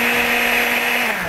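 Electric kitchen blender whirring steadily as it blends a milk and yogurt mixture, a loud, continuous motor drone with a high whine, close up and alone.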